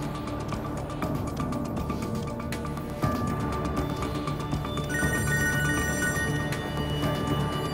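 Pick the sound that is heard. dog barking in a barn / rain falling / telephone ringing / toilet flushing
telephone ringing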